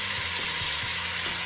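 Steady bright sizzle of beef frying in hot oil in a pan, a continuous crackling hiss throughout with faint low stirring knocks beneath, close and fairly loud with no talk.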